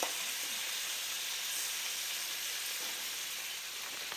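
Shrimp frying with garlic in a fry pan, giving a continuous soft, even sizzle and hiss at low volume with no talking.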